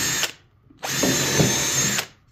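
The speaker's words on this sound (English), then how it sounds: "I start out by coming down here and drilling me 2 quarter-inch holes" A power drill bores quarter-inch holes in a cedar porch swing upright: a short whirring burst, a pause, then a longer close, loud drilling run with no talk.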